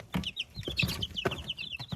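Young chicks cheep in a coop kept without a brooder, with a steady stream of high, thin peeps repeating close by over soft scratchy movement.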